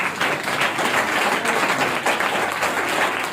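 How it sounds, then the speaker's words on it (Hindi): Loud, steady clapping from an audience at a school prize ceremony, honouring a student after annual exam results, dense and continuous throughout with no talk over it. "उनके हौसले की अफजाई के लिए जोरदार ताली बजाएंगे"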